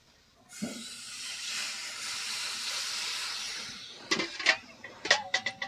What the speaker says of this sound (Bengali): এবার দিয়ে দেবো ঝোলের জন্য পরিমাণ মতো জল